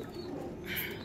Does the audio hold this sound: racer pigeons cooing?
yes